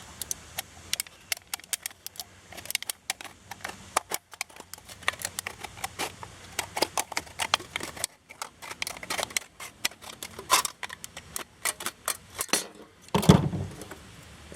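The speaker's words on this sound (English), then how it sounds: "all you're going to do is stick your scissors in there." Scissors snip and crunch through a thin aluminium can, cut apart to make an alcohol can stove, in a long series of close, sharp metallic clicks and crinkles with brief pauses.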